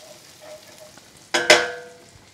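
Butter hits a hot pan on high heat before shrimp are sautéed, giving a brief sharp sizzle burst after quiet kitchen background, then fading quickly.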